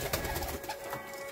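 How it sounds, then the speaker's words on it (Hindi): Laldume pigeons kept in a breeding setup coo close by, giving soft, throaty, repeated calls with several birds overlapping in a steady murmur. "इधर गूंज रहा है लल्लुमा"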